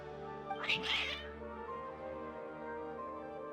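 Cats meowing in the video game Genshin Impact, a couple of drawn-out meows close by over a sustained musical game background, followed by quieter ambience.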